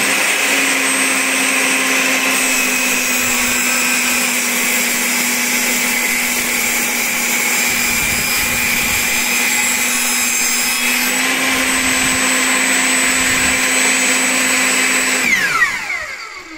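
Table saw ripping thin strips from wood, a steady loud whine with a constant pitch that holds for about fifteen seconds, then winds down near the end.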